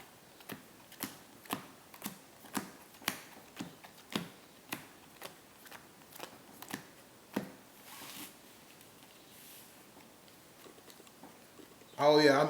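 A deck of trading cards is power-shuffled in a quick run of sharp riffling snaps that thin out and stop, followed by quiet and a brief loud rustle at the end.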